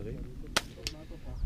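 A .22 LR rifle fires once at an amateur benchrest precision shooting competition, a sharp close crack followed by a fainter second report, over low background noise.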